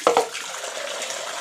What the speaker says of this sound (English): you can fill it up with water.